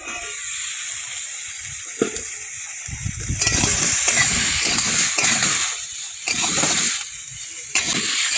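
Potatoes fry in a little oil in a pan for a vegetarian potato and pointed gourd curry, giving a steady close sizzle with bursts of stirring and scraping that swell and fade.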